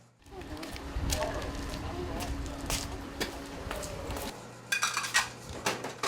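Plates and dishes are handled in a seafood restaurant kitchen while a sashimi platter is set up: close ceramic clinks and clatters in irregular bursts, with a steady low hum behind them.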